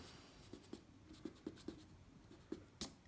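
A ballpoint pen moves across paper in a drawing, making soft, close scratchy strokes and light taps in an irregular rhythm, faint and alone with no voices, ending with one sharper tick.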